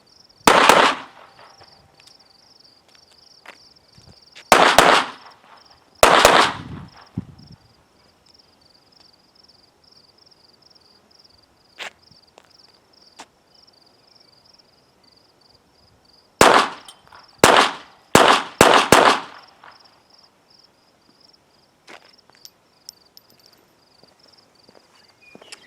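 Pistol gunshots from Velocitor ammunition: three sharp shots early, then a quick cluster of four near the end, loud and close with fast decay, with insects buzzing steadily and occasional handling clicks between.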